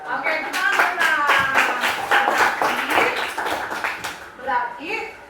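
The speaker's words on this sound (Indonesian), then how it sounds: "tepuk tangan dong" A classroom of students claps for a classmate, Frans, during a teaching practice lesson: lively, fairly rhythmic hand claps, with children's voices and a teacher's speech running over and under them.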